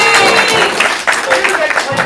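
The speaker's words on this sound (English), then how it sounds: "Big applause for the captain of the red team." An audience at a comedy improv show applauds for the red team captain, a brief burst of dense clapping with some crowd voices and a bit of talk mixed in.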